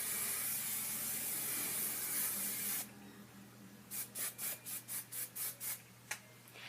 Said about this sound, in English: So then you want to spray with hairspray.